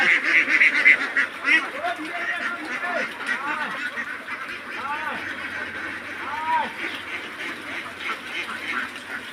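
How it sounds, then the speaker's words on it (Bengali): Thousands of ducks on a duck farm in Rajshahi, a dense chorus of quacking and honking calls that rises loud at first and carries on steadily, with a person talking over the flock. "কিভাবে হাঁস হাজার হাজার হাঁস রাখাল ছেলে চড়ায় নিয়ে আসতেছে"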